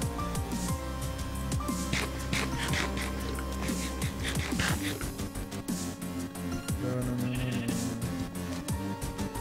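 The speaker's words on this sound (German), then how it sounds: "Da drüben ist ein Esel im Wasser." A donkey brays from the water in a video game, a series of bleating, honking calls over game music and ambient sound, fairly loud throughout.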